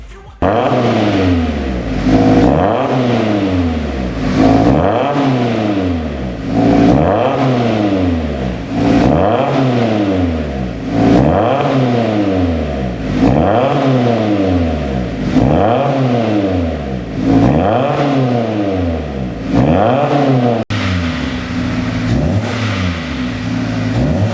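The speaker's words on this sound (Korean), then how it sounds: "배기 튜닝을 통해 강렬한 배기음 사운드와 다이나믹한 주행을 경험할 수 있습니다" A Kia Forte 1.6 sedan engine revs repeatedly through a loud, low-toned tuned dual variable exhaust, each rise and fall in pitch rhythmic and close, about a dozen revs in a row.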